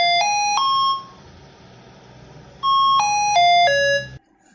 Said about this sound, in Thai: อันนี้เป็นเสียงเริ่มต้นนะครับของการประกาศ